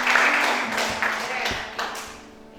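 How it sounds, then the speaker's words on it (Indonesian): A church congregation claps together in a sustained wash of applause, fairly close and steady, easing off toward the end. "Tepuk tangan yang paling baik."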